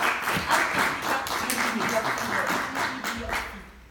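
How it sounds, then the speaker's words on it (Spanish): Audience at a bookbinding history colloquium applauds in a steady, dense burst of clapping lasting a few seconds before fading. "El señor Mariano Muñoz Hidalgo, un aplauso para él"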